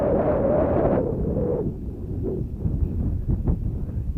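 Steady wind buffets the microphone, a loud broadband rumble throughout with gusty surges and a few sharper low thumps in the second half, during a foam RC plane flight.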